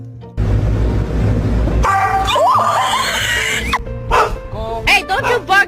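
A dog barks and yips close by in a few sharp bursts, mixed with whimpering and high squealing cries, while a person's voice is heard alongside.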